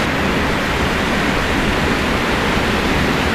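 A waterfall pours down a ravine on a Southern California hike, a loud, steady, broadband rush of falling water that stays constant throughout with no voices.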